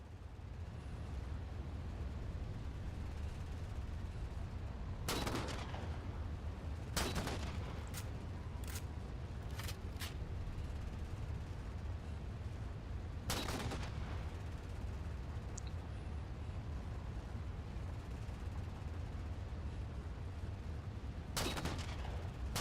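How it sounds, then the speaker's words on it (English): Sniper rifle shots in the video game Halo, fired from a Mammoth vehicle: several sharp, loud single cracks spaced seconds apart over a steady background rumble, including a quick cluster of lighter pops in the middle. "Just trying to take a few pot shots so I can get all the sniper ammo off the Mammoth."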